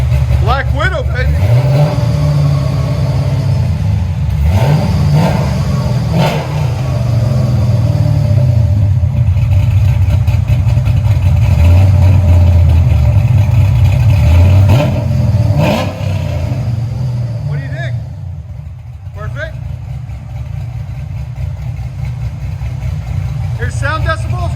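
Close-up revving from a 1972 Chevy Chevelle SS with a cammed 6.2L V8, long tube headers and dual exhaust, rising into loud blips and settling back to a rough idle, with people talking nearby.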